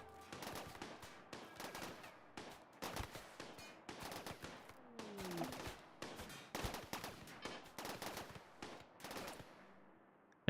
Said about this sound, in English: They're shooting at them. Shooting at the traders.